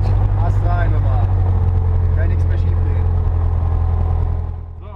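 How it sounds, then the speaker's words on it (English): A propeller aircraft engine drones loudly and steadily at close range in winter cold, its low rumble constant, while a voice talks over it before the noise drops off. "Now that the engine is running"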